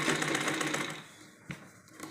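A sewing machine stitches a petticoat, its motor running in a steady, dense whir for over a second before easing off, followed by a short mechanical clack and a brief restart.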